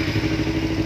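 A motorcycle engine runs at a steady, even beat just after being restarted following a magnet coil and sensor check, loud and close, with no talking.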